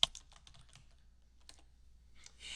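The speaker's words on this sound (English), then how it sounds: "we're going to type in charities" A computer keyboard taps out a search query in a website search bar: a quick, faint run of light key clicks, a pause, then a few more keystrokes, with no one talking.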